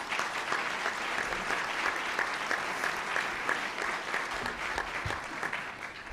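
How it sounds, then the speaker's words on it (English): Luncheon guests at the National Press Club give sustained applause, a thick, even wash of many hands clapping for about six seconds, with no speech on top. "Please give them a round of applause."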